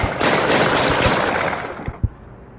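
Video game gunfire: a dense, loud burst of rapid shots for about two seconds, then a single sharp report as the noise trails off.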